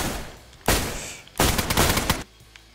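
Two loud bursts of rapid gunfire in the game DayZ, each lasting under a second, crackling sharply against a quieter background rumble.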